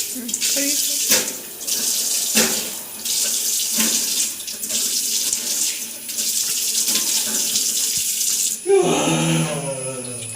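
Water runs steadily from a tap into a sink during face washing, a continuous splashing flow with brief interruptions and a voice heard near the end.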